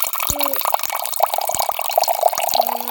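Water splashing and running in a toy swimming pool with balls and a slide, a busy watery wash under intermittent talking voices.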